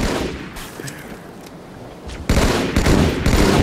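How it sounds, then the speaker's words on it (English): Rapid automatic gunfire from the video game Halo 2, a stream of shots with the ammunition being emptied, growing louder and denser in the second half. "I'm gonna waste my ammo there."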